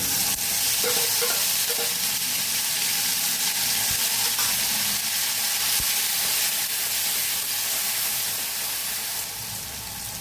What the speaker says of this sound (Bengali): টমেটোটা ভালোভাবে কষানো হয়ে গেছে।